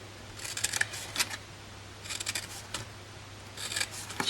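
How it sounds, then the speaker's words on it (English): Paper scissors make short bursts of crisp snipping as they cut cardstock along half-inch score lines for a handmade tea light gift box. Three close, clear clusters of cuts are separated by brief pauses, with no talk. "Then bring your scissors in and remember those little score lines that we did every 1/2 inch."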